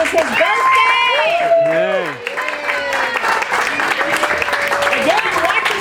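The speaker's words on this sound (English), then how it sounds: "Give him a big round of applause, please." A crowd applauds at a live cooking demonstration at Cal Expo, steady clapping and some cheering running under a host's voice and a tonal, music-like sweep.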